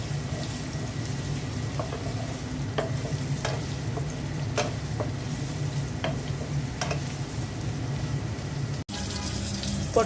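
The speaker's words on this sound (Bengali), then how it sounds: "পাতিলায় তেল দিয়ে দিচ্ছি, শিং মাছ রান্না করব। পেঁয়াজ দিয়ে দিচ্ছি" Onions sizzle steadily in oil in a pot, with a continuous frying hiss and occasional clicks of a spoon stirring, meant for a stingi fish curry, with no talking.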